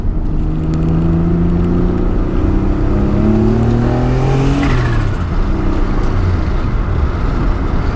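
A loud Nissan J32 V6 engine, after losing all its oil through a damaged oil cooler fitting, drones and revs, its pitch climbing and falling through gear changes as it drives, continuous and close.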